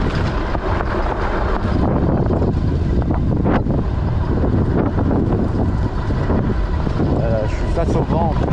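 Steady, loud wind buffeting rushes across the microphone throughout, a dense roaring noise from riding an ENGWE L20 e-bike at 37 km/h into a headwind.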